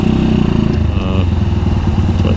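A Benelli Keeway Klight 202 motorcycle engine idles close up with a loud, chugging pulse whose rhythm shifts as the revs waver and dip briefly.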